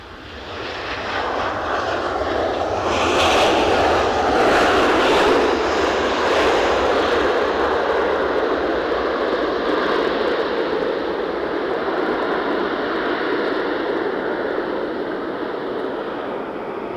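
A Maltese-registered jet airliner passing near Edinburgh airport, a broad engine roar that builds quickly, peaks early, then holds and slowly fades, steady and fairly loud with no talking.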